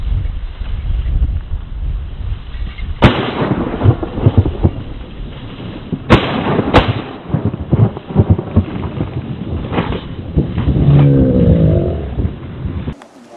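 Shotgun blasts during a bird wingshooting hunt ring out outdoors, with sharp broadband bangs near 3, 6 and 6.8 seconds over steady wind noise and rustling. A dog is being worked nearby.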